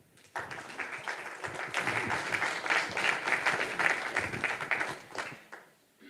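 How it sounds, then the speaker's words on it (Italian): An audience at an Italian book presentation breaks into applause, a sudden onset of many hands clapping that swells, holds steady for several seconds and then fades out. "Facciamo un applauso."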